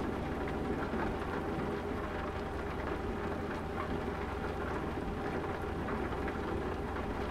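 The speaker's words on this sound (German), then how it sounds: "Ich höre den Regen jetzt prasseln." Rain in Euro Truck Simulator 2, a steady dense patter on the truck that holds at an even level throughout, with a low background rumble and no voices.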